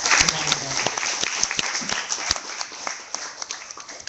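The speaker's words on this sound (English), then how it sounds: "So one very big applause." An audience at an evening launch event applauds, a dense patter of claps with a few sharper individual claps, loud at first and tapering slightly; a voice briefly overlaps at the start.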